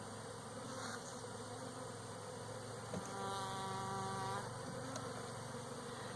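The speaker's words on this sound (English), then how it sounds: "I'm fixing to shake all these bees into this hive." Honey bees from a package buzz steadily around a hive as they are installed, a continuous faint drone with a few brief louder passes of individual bees.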